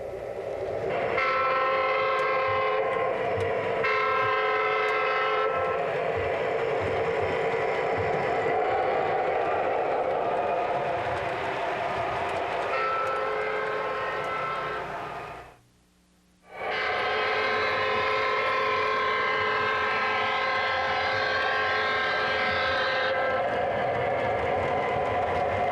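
An MTH RailKing O-gauge SD60 model diesel locomotive runs steadily, its horn blaring in long sustained chords that stop briefly around the middle, then resume loud and close with no talk.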